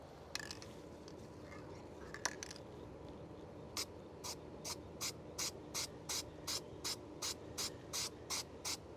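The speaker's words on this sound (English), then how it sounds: "I'm actually going to spray a little bit of that high tack on there" Permatex high tack sealant is sprayed onto a gasket during a coolant system job, heard as a quick run of about a dozen short, even hissing spray bursts after a few faint clicks, close and fairly quiet.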